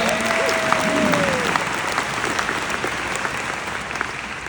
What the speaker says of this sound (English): give yourselves a round of applause one more time for being here